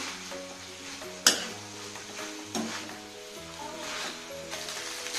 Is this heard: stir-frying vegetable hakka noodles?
yes